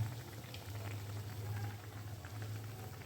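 Palm malpua fritters deep-fry in oil over low-to-medium heat, making a faint, steady bubbling hiss that continues evenly throughout.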